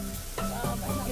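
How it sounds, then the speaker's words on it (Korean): Meat sizzles on a grill at a rooftop party, a dense steady crackle with a brief stirring shift partway through, close and loud. "지글지글 고기 굽기다"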